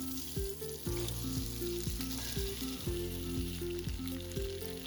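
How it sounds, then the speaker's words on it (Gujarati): Paneer fries in about three spoons of hot oil in a kadai, giving a steady, dense sizzle that runs throughout under background music. "ત્યારબાદ પનીરને તેલમાં ઉમેરીશું"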